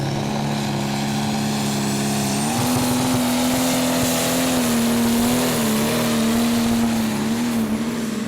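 Rebuilt prostock pulling tractor roaring continuously at full power down the track during a sledge pull at a tractor pulling event, a loud steady drone with a slight pitch rise partway through.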